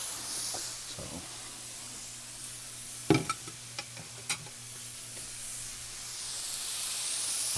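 Chicken hits a hot pan and sears, with a faint, steady sizzle and a brief burst of louder crackles and clatter as it goes in, then a low hiss that continues on its own.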